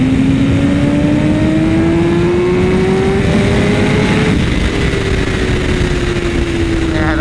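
A BMW S1000RR sport bike's engine revs loud and close while riding, its pitch climbing steadily and then easing off into a sustained high-rpm howl.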